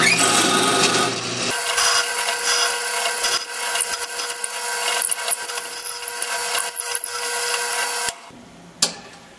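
A loud, steady drill grinds into a wooden pen blank for several seconds, with a rough buzzing tone, then stops, followed by a single sharp knock.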